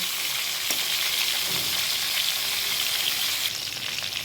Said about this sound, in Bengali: এইরকমভাবে এটাকে উল্টে দিচ্ছি এইভাবেই হালকা করে ভেজে নেব